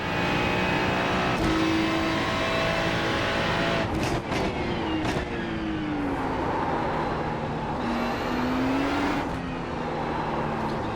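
Race car pushed through a fast lap on track, engine droning loud and continuous with rising and falling pitch through gear changes and corners, a few sharp shift cracks, no talk.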